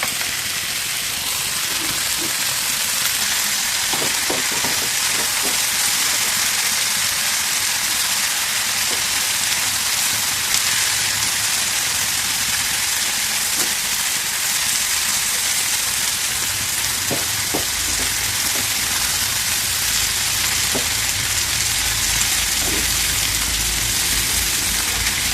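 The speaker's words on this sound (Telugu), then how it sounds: "ఈ గుడ్లోకి ఇలా వేయించుకోండి. పర్ఫెక్ట్ కలర్ కావాలి." Eggs frying in a pan with beans for a milky egg curry, a steady close crackling sizzle running throughout with occasional sharper pops.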